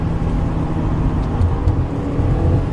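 A 2015 Subaru WRX engine held in fourth gear gives a loud, steady, close engine drone with slight swells in pitch and level throughout.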